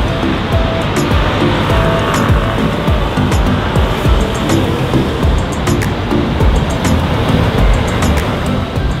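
Dense road traffic streams past near a bridge at sunset, a steady loud wash of engines and tire roar with occasional passing vehicles, unbroken for the whole stretch.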